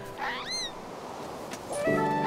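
Cat meowing in Zelda: Skyward Sword, two distinct meows with rising-then-falling pitch, the first near the start and a longer one toward the end, clear and fairly close against quiet game ambience.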